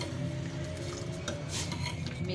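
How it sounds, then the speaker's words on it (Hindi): A spoon stirs Kashmiri pink tea in a pot over a flame, soft swishing with a few faint metallic scrapes, close and quiet. "इसी तरह इस चम्मच को चलाते जाना है।"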